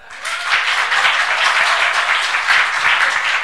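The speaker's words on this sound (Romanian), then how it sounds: "Haideți să aplaudăm și următorul pitch este Toy Touring, Marta." An audience applauds steadily and fairly loudly after a startup pitch at a digital innovation program launch, with the clapping filling the whole stretch with no speech.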